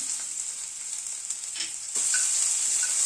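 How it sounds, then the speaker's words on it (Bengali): Chopped coconut fries lightly over a low flame for a banana flower dish, giving a steady bright sizzle and crackle that swells louder near the end, with a faint scrape of stirring. "নারকেল কুচিটাকে একটু ভেজে নেব হালকা করে।"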